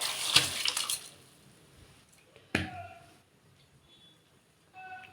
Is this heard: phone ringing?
no